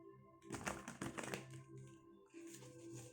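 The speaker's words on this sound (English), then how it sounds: "All right, one more shuffle." A rapid, papery riffling and flapping of shuffled tarot cards, close and fairly quiet, with a short pause before another burst of softer shuffling.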